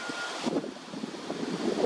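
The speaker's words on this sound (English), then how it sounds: "So it's a very windy day. Windy, yes. Lots of wind." Wind buffets the microphone in uneven rushes, a blustery outdoor roar with low rumbling gusts.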